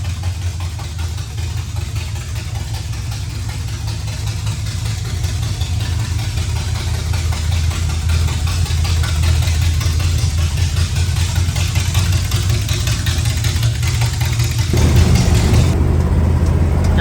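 A 1978 GMC Jimmy engine on straight headers idles with a deep, loud, steady exhaust rumble, close up, with a brief rise in intensity near the end.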